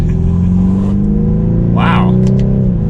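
A 2021 BMW 430i Coupe pulls from third gear, its engine note a steady low drone that builds slightly, with a brief higher whoosh midway, loud and close from inside the cabin.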